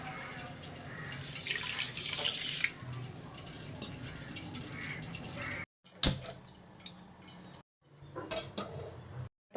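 Water is poured into a pot for gulab jamun sugar syrup, a bright splashing rush lasting a couple of seconds, followed by clinks of utensils and dishes and a few short knocks separated by gaps of silence.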